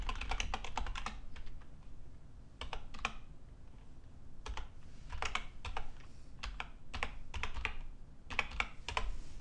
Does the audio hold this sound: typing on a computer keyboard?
yes